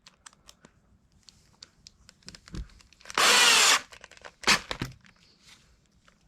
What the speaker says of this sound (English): I'm going to fasten this down before I drill the holes in here.